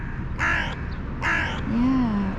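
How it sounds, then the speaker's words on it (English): Crow giving a feeding call: two harsh, loud caws close by, followed by a softer drawn-out bending call, over faint background noise. "That's the feeding call."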